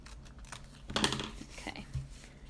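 Scissors cutting paper for an art journal, a few close crisp snips and rustles, with the loudest cut near the middle and fainter crinkles around it.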